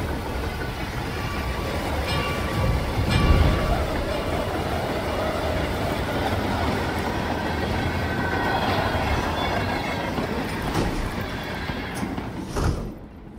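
A train rolls along in the Hitman 3 video game, a steady, loud rumbling roar with rattling carriages that holds for over ten seconds, with a brief louder clatter near the end.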